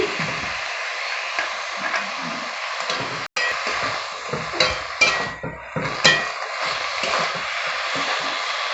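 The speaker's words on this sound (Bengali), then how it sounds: "এবার আমি ভাজাগুলো দিয়ে দেব বেগুন ভাজাটা দিয়ে দিচ্ছি" Fried eggplant pieces tipped into a pan of frying chickpea greens and stirred, with a steady sizzle under repeated scraping and clinking stirs, close and fairly loud throughout with a brief break partway.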